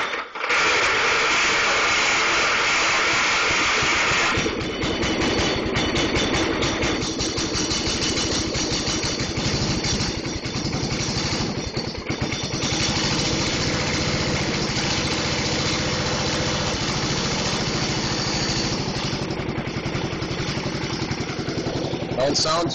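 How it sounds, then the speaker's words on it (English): Gas-powered 3T22 tornado siren engine cranked with a key, then catching and running at a loud, steady idle, close by and continuous throughout. "I'm going to try and start it here with the key"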